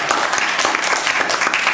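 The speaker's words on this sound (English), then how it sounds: "Round of applause for yourselves." A crowd at a pledge class showcase claps loudly, a dense, steady burst of applause from an audience that fills the room.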